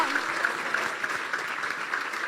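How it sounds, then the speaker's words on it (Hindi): Loud congregational clapping at a Hindi-language church sermon praising Jesus, a dense steady wash of many hands throughout with no pause, filling the hall. "यीशु के लिए, उस राजा के लिए जोरदार तालियां।"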